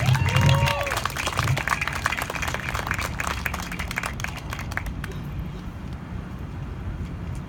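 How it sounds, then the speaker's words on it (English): A crowd at a protest outside the Ark Encounter claps and cheers, loud at first, then fading into a thinner, scattered patter with outdoor noise. "Give him a big round of applause."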